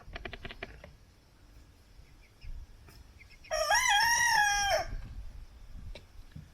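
Ixworth chickens cluck and chatter softly before a rooster crows loud and clear in one long call near the middle, then the quiet fowl noises resume.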